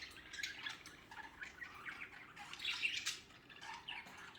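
Pet budgies in a home playroom chirp and tweet in quick, light bursts, soft and steady over a low background hiss.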